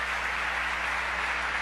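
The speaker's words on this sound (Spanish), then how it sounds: "Démosle un aplauso fuerte al Señor" Church congregation during a Sunday service applauding, a steady wash of many hands clapping throughout, with a low constant hum underneath and no speech.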